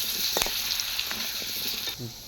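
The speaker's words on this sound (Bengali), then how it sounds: "এবার আমি আলুগুলো লাল লাল করে ভাজে নেব।" Potato pieces fry to reddish-brown in oil for a katla fish kalia, a loud steady sizzle with a few clinks and scrapes of the spatula near the end.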